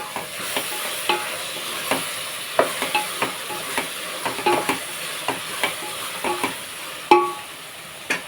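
Food is stirred in a frying pan while a chicken curry cooks: a steady soft sizzle runs under a rhythmic series of scraping, knocking spoon strokes, close and moderately loud.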